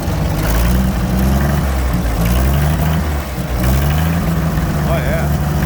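A vintage Allis Chalmers engine idles close by with a steady, throbbing low rumble, a brief dip midway, while a person talks over it.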